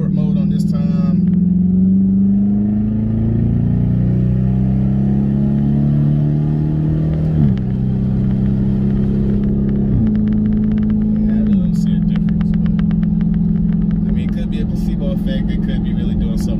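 Dodge Charger Hemi V8 fitted with an 87mm throttle body, driven in sport mode: a loud, steady engine rumble with rising and shifting tones through gear changes, heard from inside the car.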